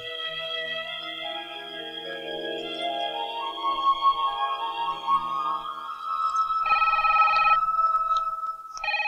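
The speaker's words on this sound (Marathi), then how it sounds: "फोन घ्या बघू जरा." A telephone rings steadily for several seconds in a home scene, its electronic bell tone repeating clearly with no talking over it.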